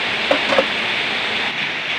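Steady rain pours down in a continuous, fairly loud wash, with a couple of brief faint knocks near the start.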